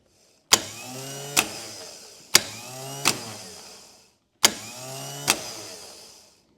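An engine's starter gear cranks in three separate bursts, each opening with a sharp clack and whirring briefly before another click cuts it off.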